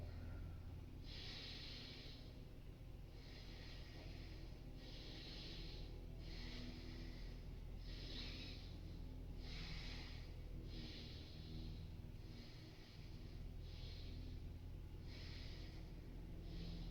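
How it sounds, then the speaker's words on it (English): Deep, steady breaths in and out during a warm-up exercise, a regular train of about eleven soft, airy breaths over a low steady background, with no talking. "Inhale, exhale."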